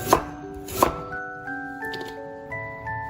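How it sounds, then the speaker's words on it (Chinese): Ginger sliced with a knife, two sharp close chops near the start followed by quieter taps, with a sustained musical tone running underneath. "这个时候，我们来把姜切成片"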